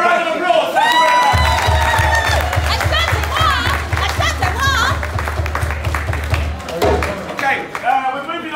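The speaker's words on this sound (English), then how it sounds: "Let's give her a round of applause." Audience applause and cheering for a performer at a mental health and suicide awareness stage show, a loud crowd of clapping and shouts sustained throughout, with a steady low thumping beat under it and voices mixed in.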